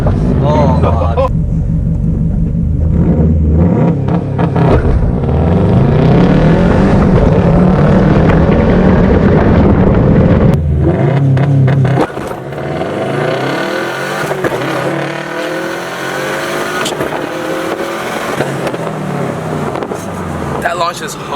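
A sports car launches hard in a 0-60 acceleration run, its engine roaring loudly and climbing through the gears for many seconds, close up, with people talking over the noise.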